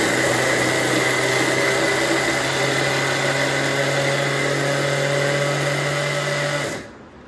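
A kitchen mixer grinder whirs loudly and steadily as it grinds semolina for a homemade rava cake, a sustained motor drone that cuts off abruptly near the end, with no talking.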